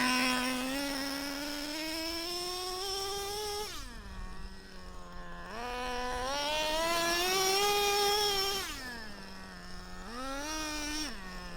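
Nitro RC car engine running rich on a track, a loud, high, buzzing whine that rises and falls repeatedly as it revs and shifts gears, heard close with no talking.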